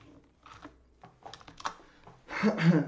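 Typing a command on a computer keyboard while working in Azure Databricks: scattered soft key clicks build to a louder, denser burst of rapid keystrokes at the end, close to the mic.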